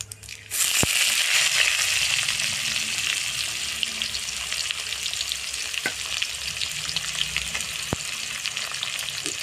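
Chopped onion hitting hot oil with cumin in a pan for a jackfruit dish, a steady loud sizzle and crackle starting abruptly and continuing throughout, with a few sharp clicks of stirring.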